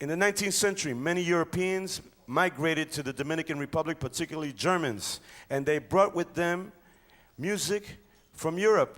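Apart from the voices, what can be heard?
No everyday noises stand out.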